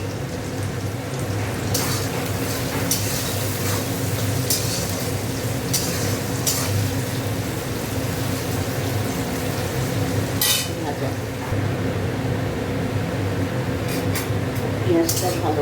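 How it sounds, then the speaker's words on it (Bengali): Salted onions frying in a pan, a steady close sizzle with occasional scrape-like clicks from stirring, continuous and moderately loud, with a voice speaking over it. "পেঁয়াজটা ভালো করে ভাজা হয়ে গেছে"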